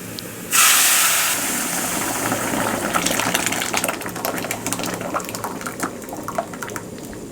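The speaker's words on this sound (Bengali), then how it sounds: "দেখুন ডালটাতে আমরা একটু বাগার দিলাম, এতে সুন্দর একটা ফ্লেভার আসবে।" Hot tempering is poured into a pot of masoor dal, bursting into a sudden loud hiss, then settling into steady close sizzling with scattered crackles and pops.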